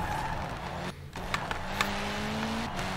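BMW Z8 engine in Forza Horizon 4, tuned to about 1515 hp, droning close and loud with a brief dip, then a rising rev tone and a few short bursts, without speech.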